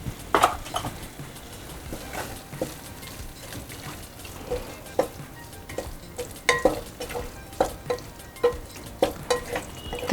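Paneer bhurji cooks with butter in a pan, stirred with repeated clinks and scrapes of a spoon against metal over a faint sizzle, close and steady throughout.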